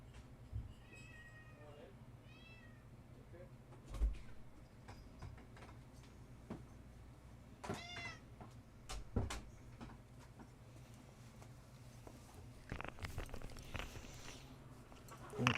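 A cat meows several times in short rising calls, fairly faint and close, with occasional knocks and thuds between them and background noise throughout.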